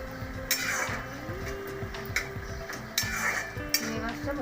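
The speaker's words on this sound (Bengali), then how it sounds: "ঢাকাটা খুলে দেখবো" A lid comes off a cooking pan of prawns frying with onion, tomato and green chili, metallic clinks and clatter over a steady low hum with a few sharp knocks.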